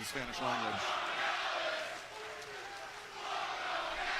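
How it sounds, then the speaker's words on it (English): A wrestling crowd at an AEW Dynamite live event chants for Don Callis, a loud, sustained roar of many voices rising and falling in waves, with a commentator's voice talking over it. "Don Callis getting those chants."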